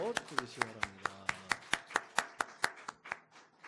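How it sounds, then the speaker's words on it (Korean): A church congregation at a Wednesday evening worship service gives applause as a blessing after a hymn of praise: a brief voice, then a run of sharp, fairly regular claps from a modest number of people, close and distinct rather than a dense roar. "뜨거운 박수로 축복해주시기 바랍니다."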